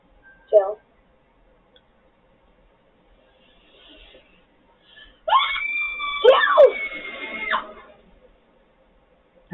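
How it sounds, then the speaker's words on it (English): A woman lets out a put-on scream after chanting Bloody Mary, a loud wavering shriek lasting a couple of seconds, preceded by a short sharp yelp and a faint murmur of voices. "That was a fake scream."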